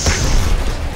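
A frag grenade blast in Gears of War Ultimate Edition, one loud, deep booming explosion rumbling for about a second with no voices over it.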